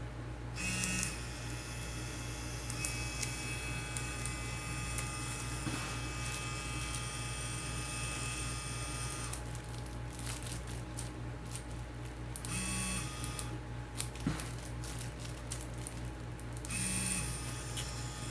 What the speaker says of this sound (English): So let's turn on the machine.